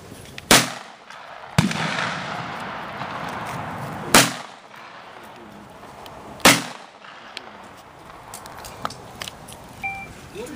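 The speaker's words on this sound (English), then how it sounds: "Your shooting is getting a lot better in one day." Four sharp gunshots ring out at a firing range, spaced a couple of seconds apart, each a loud crack trailing into outdoor echo, with fainter distant pops between.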